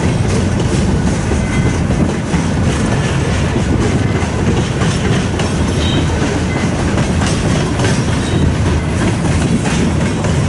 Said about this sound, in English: Second train of the day here.